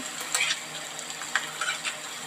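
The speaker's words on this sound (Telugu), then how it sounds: "మొత్తం తాలింపులో వేసుకున్న తర్వాత పచ్చివాసన పోయే వరకు ఒక రెండు నిమిషాల పాటు అయితే మగ్గించుకోవాలి" Gongura chutney mixture cooking in tempering oil in a pan gives off a steady, soft sizzle, with a few light stirring scrapes and clinks scattered through it.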